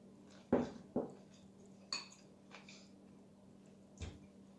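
A spoon clinks against a bowl while someone eats muesli like cold cereal, giving a few sparse, light taps spaced about a second apart in a quiet room.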